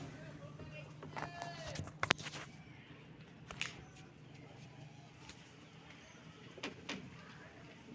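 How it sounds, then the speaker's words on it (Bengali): Soft, low coos of pigeons and doves sound faintly in a quiet space, alongside occasional bird calls, a few thumps and someone talking. "আমাদের পাখিগুলো এবং আমাদের কবুতরগুলো"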